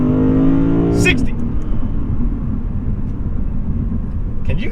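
Lexus IS500 F Sport V8 engine accelerating hard from a standstill on a hot Arizona road, a loud, rising engine roar that tops out and then settles into a steady drone.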